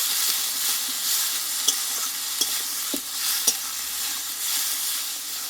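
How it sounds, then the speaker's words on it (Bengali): Ground spice paste with chopped tomato and salt frying in a pan for a Bengali mutton curry, a continuous sizzle with light spatula scrapes and stirring taps, close and without talk. "এবার মশলাটা একসঙ্গে ভালোভাবে কষিয়ে নেব"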